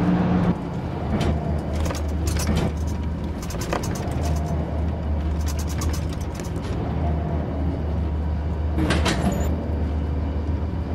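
Interior of a moving bus: a constant low engine drone and road rumble with scattered rattles, clicks and brief hisses, close and continuous.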